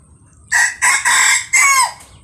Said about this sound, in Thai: เสียงขันประมาณนี้นะครับ